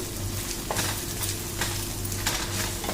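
Chicken curry sizzles steadily in a pan over a medium flame as turmeric and chili powder are stirred through it, a continuous close frying hiss broken by a few soft scraping strokes.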